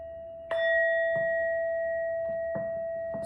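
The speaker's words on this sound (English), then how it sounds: "And I'm feeling called to use chimes heavily in this," Chimes are struck about five times at a slow, even pace, each strike setting off a bright, sustained ringing tone that hangs steadily between hits, alone and without talking.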